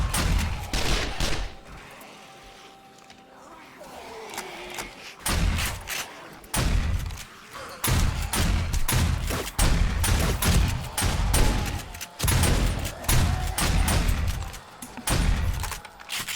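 Repeated bursts of gunfire in 7 Days to Die, loud volleys of shots and thuds that start sparse, pause briefly, then come in dense rapid clusters through to the end.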